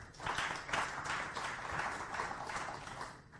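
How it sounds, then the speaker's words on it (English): Faint, steady applause rises from a developer conference audience at APIdays Mediterranea 2014, a dense wash of many hands clapping for a few seconds, heard from a distance. "Some applause for Alex, please."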